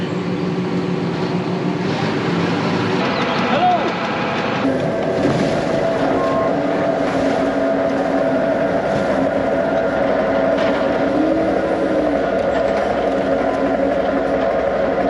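A tractor-driven feeder wagon running at 540 PTO on a farm, a loud, steady mechanical drone and rumble with windy noise, continuous throughout, with brief voices near the start.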